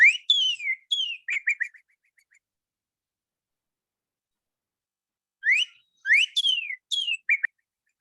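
Two bursts of clear, downslurred whistled northern cardinal notes, repeated several times in quick phrases, with a silent pause between them.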